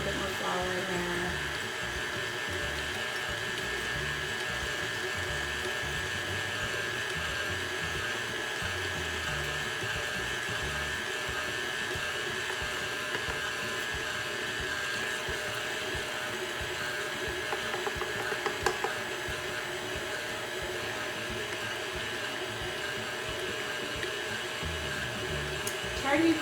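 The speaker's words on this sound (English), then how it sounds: "Try to be patient and allow the mixer to pick up all of that dough off of the sides like it's doing now." A stand mixer kneads cinnamon roll dough with a steady whirring motor hum throughout, moderately quiet and constant, with a few faint knocks near the end.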